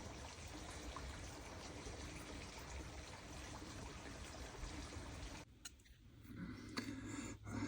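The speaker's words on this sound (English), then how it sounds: "there's water, but there's not a lot of flow." Water trickles steadily along a small, low-flow creek during the wet season, a soft continuous gurgling and washing that fills the background and shifts slightly near the end, with no talk.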